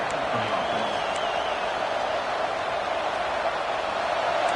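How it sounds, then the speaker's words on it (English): The crowd at an American football stadium keeps up a loud, constant roar, broad and unbroken. "This crowd trying to make life miserable for this offense."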